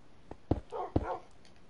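Tamed dogs in Minecraft bark and yip under attack, a few sharp barks in quick succession with a brief whine between them, fairly faint and alone.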